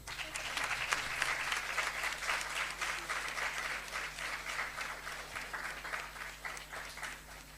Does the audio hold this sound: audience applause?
yes